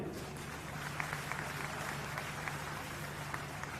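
A political rally crowd in Jhajjar, Haryana gives a sustained round of applause, dense steady clapping from many hands filling the space with a few louder claps standing out.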